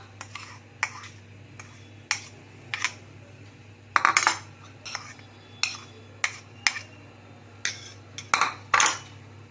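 A utensil stirs melted chocolate with biscuit and almond powder in a bowl, making a repeated series of sharp clinks and scrapes against the bowl at a steady, close rhythm over a faint background hum.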